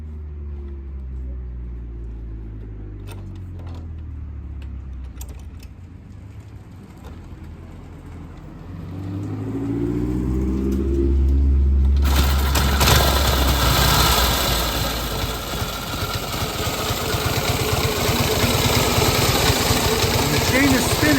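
A motorcycle engine idles with its chain spinning, a low rumbling drone that swells partway through and grows louder and rougher, with people talking over it.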